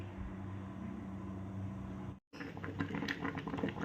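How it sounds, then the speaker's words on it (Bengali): Soft, steady bubbling hiss of water boiling in a covered pot, steaming banana flower, close by, with a brief silent break before the simmering resumes slightly louder. "দেখো আওয়াজ পাচ্ছ, জলটা যে ফুটছে।"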